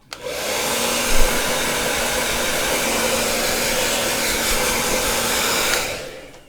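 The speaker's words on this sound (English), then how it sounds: "let's just hit this with a blow dryer real quick" A hair dryer blows steadily at close range, a loud even rushing whoosh that runs for several seconds before cutting off.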